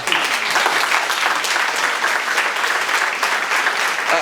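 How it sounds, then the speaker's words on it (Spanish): A loud, dense round of audience applause for the Autonomous University of Puebla at a cultural event, sustained and even for about four seconds with no talking. "Un aplauso a nuestra universidad"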